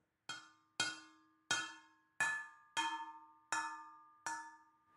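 Steel kitchen bowl struck with a spoon seven times at an even pace, each hit a bright metallic clang that rings and decays before the next, close and clear with no talking.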